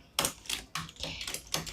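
Several quick clicky keystrokes on a computer keyboard, a short cluster of presses like Ctrl Shift Enter, close and fairly crisp, with no talk over them.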